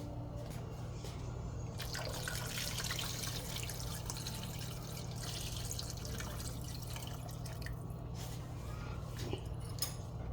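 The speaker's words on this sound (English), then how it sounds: "I'm going to also add some more water in here." Water steadily running and trickling into a cooking pot of oxtails, a continuous close pour with faint drips and no speech over it.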